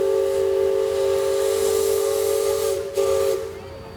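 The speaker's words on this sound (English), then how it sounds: "specific other whistle that I had, and it was the Liberty Bell." The steam whistle of the Liberty Belle riverboat at Walt Disney World sounds one loud, sustained chord-like blast with a hiss of steam, briefly wavering near the end before it fades.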